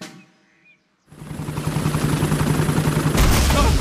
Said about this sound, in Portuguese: O helicóptero da Dona Coelha resgatou o Papai Pig